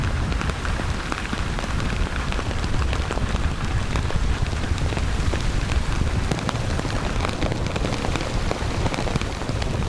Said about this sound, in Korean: 요트 크루들은 교대로 당직을 서며 세찬 비바람과 맞서야 했다.